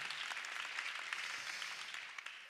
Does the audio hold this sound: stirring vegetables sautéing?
no